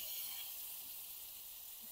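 Chicken fries in a kadhai over a wood-fired stove, giving a faint, steady sizzling hiss with no voices.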